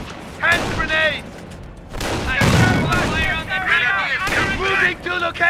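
Gunfire and artillery booms from the World War II strategy game Company of Heroes: Opposing Fronts crackle in steady bursts, with heavy thuds midway, while soldiers' voices shout over the battle throughout.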